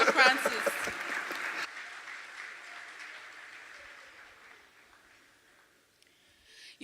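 An audience's round of applause for Pastor Francis bursts out loudly and densely, then quickly thins and fades into a quieter room with scattered faint clapping trailing off.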